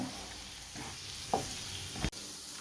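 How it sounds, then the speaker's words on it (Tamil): Soft, steady sizzling of something frying in hot oil, with a few faint stirring scrapes, quiet and close. "இந்த எண்ணெயிலே நம்ம மசாலாக்கெல்லாம் போட்டு வதக்கும் போது வாசம் ரொம்ப சூப்பராக இருக்கும்"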